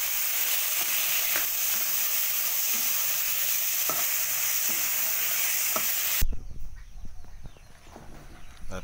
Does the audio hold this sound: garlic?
yes